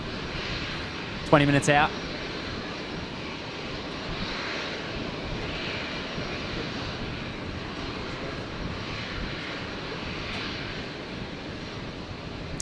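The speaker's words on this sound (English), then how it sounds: "Pink Flamingo, Fokker 70" A Fokker 70 airliner's engines rumble at Brisbane Airport, a steady broad roar holding at moderate level throughout, with a short burst of radio chatter early on.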